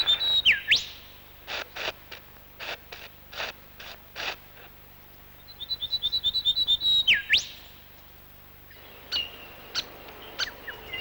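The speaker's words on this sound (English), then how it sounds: "Here's another member of the lyrebird's kingdom, a grey fantail" A grey fantail calls in bush, giving rapid high chirping phrases that sweep and flicker, repeated in bursts with short pauses between them, clear and fairly close.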